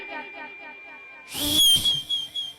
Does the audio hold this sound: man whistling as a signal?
yes